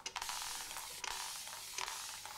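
A spray bottle of lukewarm water used before a shave gives three quick, faint hissing spritzes about a second apart, with a soft click from the trigger on each.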